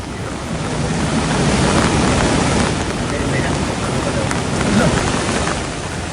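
Heavy monsoon rain and floodwater in Aravalli make a dense, steady roar of rushing water and downpour, with wind buffeting the microphone throughout.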